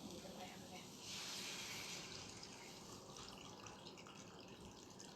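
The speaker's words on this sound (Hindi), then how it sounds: "अब इसमें मैं पानी डालूंगी।" Water runs and splashes steadily into a cooking pan, a continuous close pour with a brief louder gush near the start.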